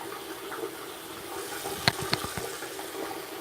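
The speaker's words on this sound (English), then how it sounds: "just rinse my hand off" Hands rinsed under a running tap give a faint, steady watery hiss, with a few small splashes and knocks near the middle.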